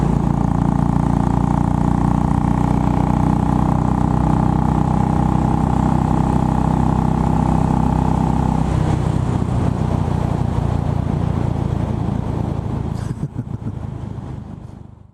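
A Royal Enfield Bullet 500 single-cylinder motorcycle being ridden, its engine droning loud and steady with a thumping rumble, then easing off and fading toward the end, with no talking.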